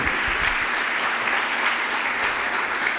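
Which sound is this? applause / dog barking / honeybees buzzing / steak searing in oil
applause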